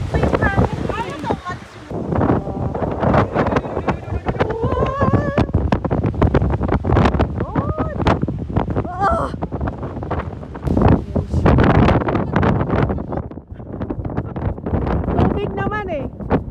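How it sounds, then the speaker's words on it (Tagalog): Strong wind buffeting the microphone at the Seaford white cliffs in England, a continuous loud roar under frequent close talking voices. "Patulak pa yung hangin."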